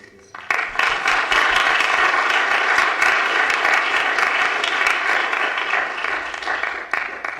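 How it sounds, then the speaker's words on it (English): Sustained applause from an audience at a community event, a dense steady wash of many hands clapping that starts abruptly and holds loud and even for several seconds, easing slightly near the end. "a big round of applause for all the work that so many people have put into making this happen"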